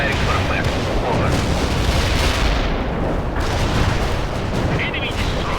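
Artillery fire and explosions in the strategy game World in Conflict: a continuous, dense barrage of booming impacts and rumbling blasts, loud and sustained, with radio-style voices mixed in.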